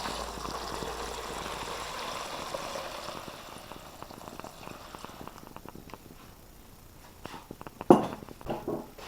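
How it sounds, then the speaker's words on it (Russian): Water is poured over a dry soaking mix of buckwheat, green buckwheat and oats for parrots. A gentle, steady trickle fades after a few seconds, followed by faint clinks and rustles. "И все это заливаем водой."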